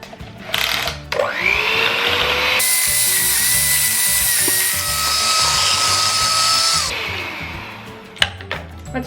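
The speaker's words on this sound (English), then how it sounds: "Now I'm gonna plug in my mixer and it's time to mix." Electric hand mixer whirring through chocolate chip muffin batter, a steady high motor whine that rises as it starts, holds for several seconds and winds down, with light clatter before and after.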